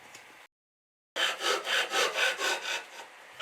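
A handsaw cuts a wooden section off a table while making a case miter shooting board. After a short silence come about seven even, rasping back-and-forth strokes, close and clear.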